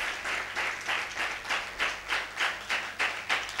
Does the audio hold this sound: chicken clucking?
no